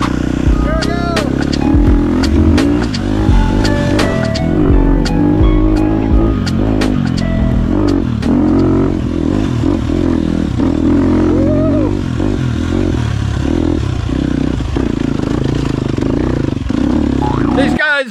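A Husqvarna 250 dirt bike rides through the jungle, its engine loud and close, revving and easing with rapid throttle changes and clattering bursts, while voices talk intermittently over it.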